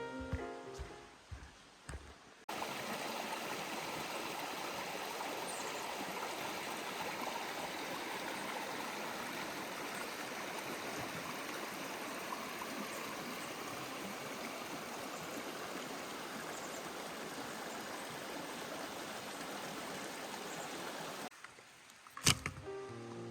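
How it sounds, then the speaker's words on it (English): A steady, full rush of Elliott Creek water flowing over rocks on the Goat Lake Trail, constant and close, with only brief quieter moments at the start and end. "I can hear Elliot Creek on my left."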